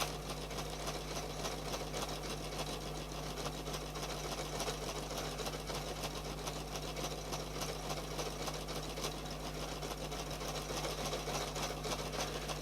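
A sewing machine runs continuously, sewing decorative stitches in a circle with a steady, dense mechanical hum and rapid needle chatter, close and unbroken throughout.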